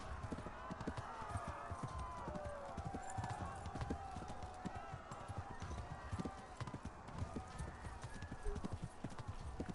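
Horse hooves clip-clop in a steady walking rhythm in the video game Kingdom Come: Deliverance II, moderately loud over a low ambient wash, continuing throughout.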